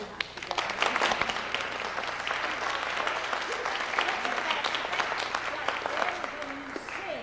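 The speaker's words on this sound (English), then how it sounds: "Let's clap again" An audience at a singing master class claps together in a sustained, moderately distant round of applause with sharp individual claps standing out from the crowd.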